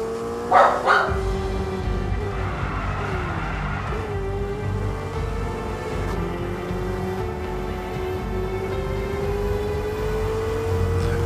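A dog at a front door barks toward the street, a loud burst early on and then quieter barks, all over the continuous whine of a Ferrari Roma engine from the F1 2022 game.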